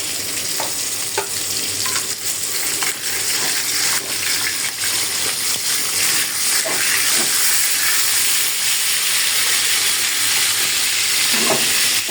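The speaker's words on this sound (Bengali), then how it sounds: "আমার মশলাটা হয়ে গেছে আমি এখন লাউ দিয়ে দেবো" Steady loud sizzling from a hot pan of bottle gourd stir-frying in masala, with scattered scraping and clacking as it is stirred and tossed throughout.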